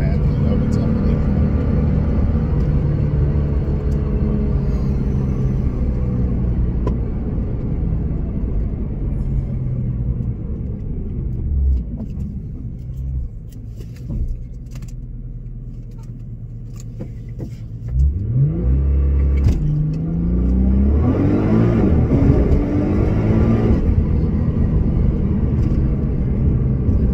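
A 2014 Nissan GT-R engine drones and rumbles while driving, dipping in the middle then revving up sharply with rising pitch sweeps toward the end, loud and close, with someone talking over it.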